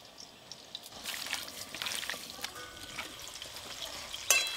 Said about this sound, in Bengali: বাবা এদিকে আলু ওল কফি ভাজা হয়ে এলো